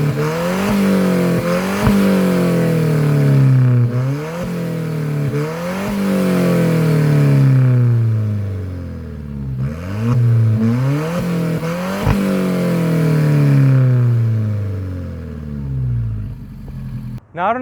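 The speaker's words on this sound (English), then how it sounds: "the exhaust sound coming from this 4-cylinder engine is the best I've heard from that engine configuration in quite some time" An Alfa Romeo 4C's four-cylinder engine revs hard and loud through its exhaust, climbing repeatedly through rising pitches with sharp drops at each gear change, then easing off near the end.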